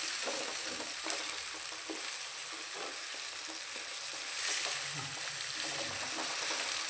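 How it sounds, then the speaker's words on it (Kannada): Chopped ginger frying in oil in a pan gives a steady, close, hissing sizzle with light crackles and a few faint stirring scrapes, with no speech over it. "ಸ್ವಲ್ಪ ಫ್ರೈ ಆಗಲಿ ಎಣ್ಣೆಯಲ್ಲಿ."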